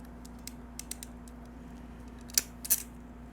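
A hand crimping tool squeezes a butt connector onto trailer wiring, giving soft clicks and then two sharp, close metallic snaps over a low background hum.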